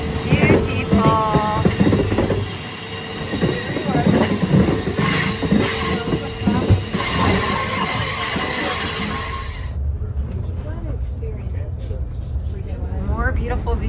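The Alaska Denali Dome train rolls along the rails while crossing a bridge, with steady rumbling, rattling and squealing wheels, while voices talk intermittently in the carriage.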